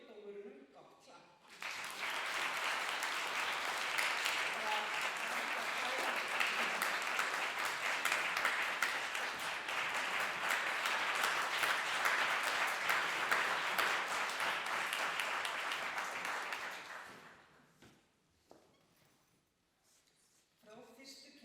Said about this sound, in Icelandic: Við skulum gefa dómurunum gott klapp.